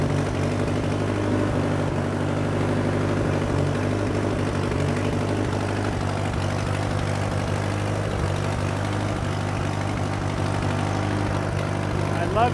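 An Allis tractor engine idles steadily with a low, even throbbing drone that holds at constant loudness and stays close throughout, while someone talks over it now and then.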